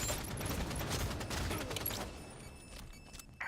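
Rapid bursts of gunfire in a Halo 5: Guardians multiplayer match, dense crackling shots for about two seconds, then thinning into scattered distant reports.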